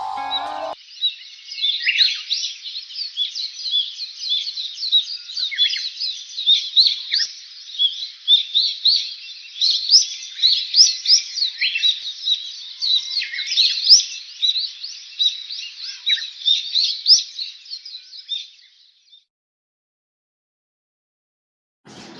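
Pet lovebirds in a bird shop chirping in a dense, busy chatter of high tweets that runs steadily and close for most of the clip, then stops abruptly into silence.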